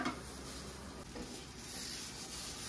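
A thick, sweet lentil filling stirred in a pan for radhaballavi, giving a steady close scraping and rubbing sound with faint sizzle, continuous throughout with no talk.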